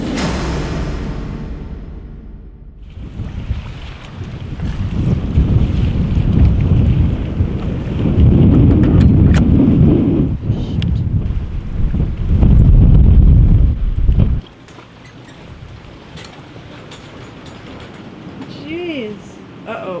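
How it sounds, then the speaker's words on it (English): A thunderstorm batters a sailboat at anchor, strong wind roaring and buffeting the microphone with heavy gusts that surge and then abruptly drop away to a lighter rush, with brief voices near the end. "The storm is coming,"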